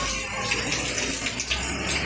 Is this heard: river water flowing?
yes